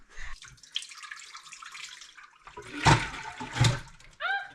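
Thawed sheep milk poured into a pot, a sloshing liquid stream with two stronger gushes, followed by a brief squeak at the end.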